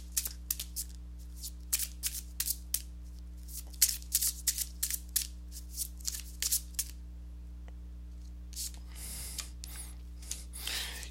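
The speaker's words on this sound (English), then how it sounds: "let me go ahead and give these cards a shuffle" Tarot cards are shuffled by hand, producing a series of crisp, close riffling snaps in irregular bursts, followed by softer rustling and handling noises over a low background hum.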